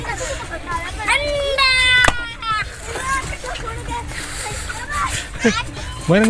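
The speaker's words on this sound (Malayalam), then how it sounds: "ബലൂൺ പോലത്തെ സാധനം എടുത്ത് എറിഞ്ഞ് പൊട്ടിക്കും" Wet splashes and splatters as water balloons burst amid excited children shouting and chattering, with loud playful cries rising over a busy outdoor Holi crowd in Dharavi, Mumbai.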